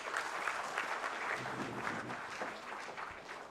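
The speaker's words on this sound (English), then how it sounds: "Let's give her a huge round of applause, ladies and gentlemen." Audience at a corporate CSR and sustainability summit gives a speaker a continuous round of applause, a dense, fairly soft wash of clapping that holds steady and eases slightly at the end.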